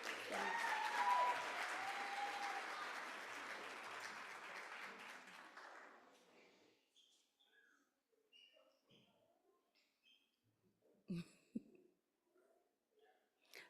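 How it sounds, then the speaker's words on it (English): Audience applause at a school oratorical competition as young contestants return to the stage, a steady wash of clapping that dies away after about six seconds into a quiet room with scattered small knocks and shuffles. "let's please give them a round of applause as they come"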